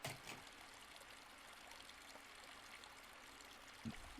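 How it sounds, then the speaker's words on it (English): Faint, steady running water trickles on behind a closed boiler room door, a continuous low wash with a couple of brief knocks near the start and the end. "Is that water running?"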